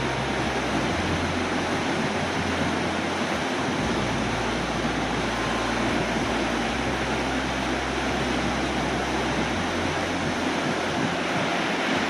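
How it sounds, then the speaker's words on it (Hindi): The Mandakini river flows through green mountain country on the route to Madhmaheshwar, a steady close rushing roar of fast water that holds constant and loud throughout, with no voices. "ये देखिए इसका बहाव और रंग देखिए इसका।"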